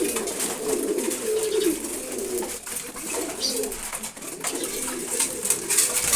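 Pigeons coo in the morning with soft repeated throaty calls, steady and fairly close, over a light background hiss and occasional rustles, with no one talking.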